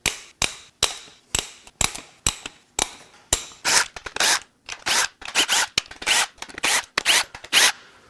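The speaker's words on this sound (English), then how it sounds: "we're gonna crack all the bolts loose that hold the lower manifold to the cylinder heads" Sharp ratchet clicks and bolt cracks ring out close and loud as lower intake manifold bolts are broken loose from the cylinder heads of a Toyota Tundra V35A twin-turbo V6, in repeated bursts with short pauses, no talking.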